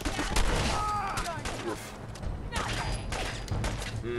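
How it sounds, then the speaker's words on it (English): Gunfire in the video game Fallout 4, several sharp shots and mechanical clacks mixed with other game sounds and a voice, moderately loud and close. "I have a feeling I should pull out a shotgun for this."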